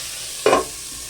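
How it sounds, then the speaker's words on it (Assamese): A half spoon of turmeric stirred into food frying in a pan, one short scraping burst of the spoon against the pan over a low background hiss, with no talking. "আধা চামুচ হালধি ভালদৰে লৰাই দিম আৰু ঢাকি দিম মই"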